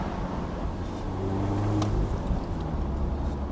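Mazda MX-5 ND engine pulling steadily with a brief rev-matching blip on a shift, a near, continuous low drone with a short rise partway through, heard from inside the car on a mountain road.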